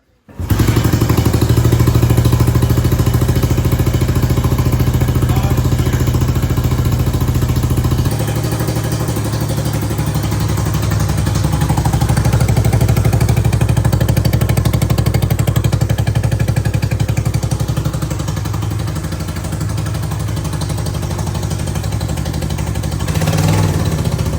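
A 50-year-old abandoned motorcycle's engine starts up and runs, a loud, close, clattering mid-pitched idle that holds steady throughout with slight shifts in pitch as the throttle changes.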